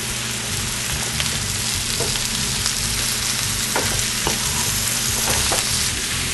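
Mushrooms sizzle steadily in a pan for a risotto primavera with chicken, with a soft scraping as they are stirred now and then. The frying stays close and even throughout, with no voices.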